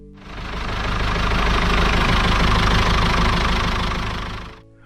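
A Ford 6600 tractor's 4.2-litre four-cylinder diesel runs steadily and loudly, a dense low knocking rumble that rises in over the first half second, holds for about four seconds, then drops away near the end.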